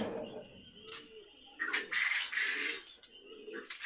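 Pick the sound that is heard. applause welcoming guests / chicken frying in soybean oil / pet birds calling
pet birds calling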